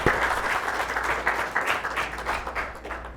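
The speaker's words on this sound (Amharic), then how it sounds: "እስቲ በደንብ አጨብጭቡላቸው፣ በደንብ አድርጋችሁ" An audience at a children's program for the Day of the African Child applauds contestants, sustained even clapping from a sizeable crowd, close and continuous.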